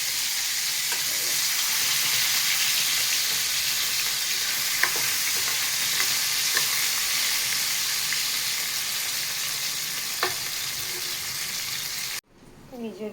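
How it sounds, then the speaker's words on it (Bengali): Luchi, Bengali fried bread, frying in hot oil, a loud continuous bubbling sizzle with occasional small clinks, close up, stopping abruptly near the end. "এই যে লুচি ভাজা চলছে"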